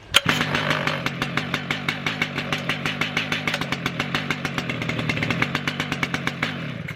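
A Stihl MS 881 chainsaw starts up and runs close by, its engine firing in a strong, regular pulsing rhythm of loud strokes that continues steadily.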